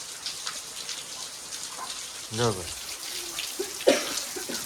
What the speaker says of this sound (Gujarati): નેવેધાર થઈ ગઈ છે.